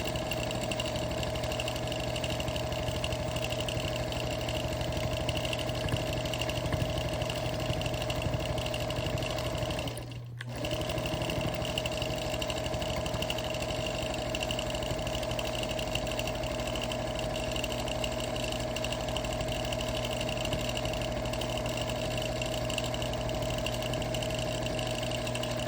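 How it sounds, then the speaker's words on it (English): A sewing machine runs steadily and continuously, stitching a back-and-forth zigzag on a lone star flag quilt, with a loud mechanical hum and one brief pause partway through. "this back and forth zigzag, if your machine is not stitch regulated and mine isn't"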